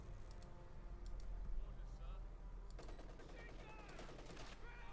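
Rapid machine gun fire from German paratroopers in the real-time strategy game Company of Heroes 2, bursts of clattering shots that thicken into a dense volley over ongoing game noise.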